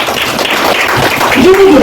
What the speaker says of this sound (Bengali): একটু করতালি